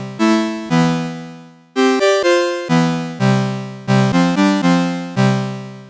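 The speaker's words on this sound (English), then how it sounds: "So the clean sound sounds like this." A clean electric guitar plays a series of bright, sustained single notes and chords, each plucked attack ringing and slowly decaying, loud and close, in an uneven rhythm.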